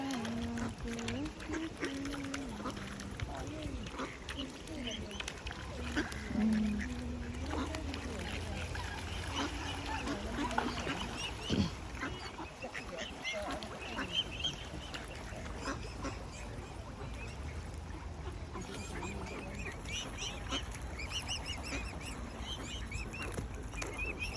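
Hungry ducks quack repeatedly while being fed pieces of bread, their calls scattered and mixed with near, ongoing talk from people feeding them.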